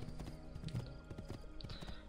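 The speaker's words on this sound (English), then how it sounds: "Now I'll just grab a horse and ride." Hooves clip-clop in a quick, repeated galloping rhythm as a horse is ridden in the video game Assassin's Creed II, fairly quiet and steady with faint game sounds underneath.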